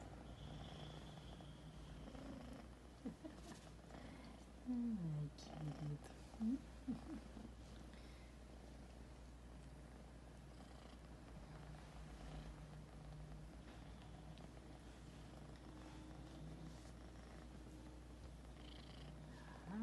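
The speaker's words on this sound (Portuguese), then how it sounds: "Tá ronronando." A black and white Persian kitten purring in a low, steady, continuous rumble close to the mic, with someone briefly talking softly partway through.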